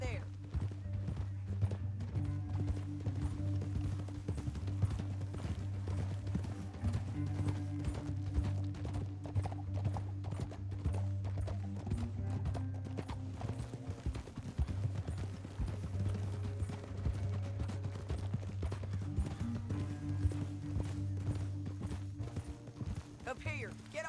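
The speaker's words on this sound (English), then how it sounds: "Up here, get off your horse." Horses in Red Dead Redemption 2 walk and trot with steady rhythmic hoof clip-clops over a low droning soundtrack, while characters talk over them intermittently.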